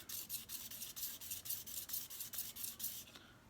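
Dull rotary cutter blades are sharpened with a quick run of rhythmic rasping strokes, about a dozen close, even scrapes with no talking.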